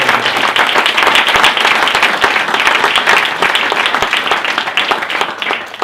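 An audience claps steadily, a dense and continuous round of applause that fades slightly at the end.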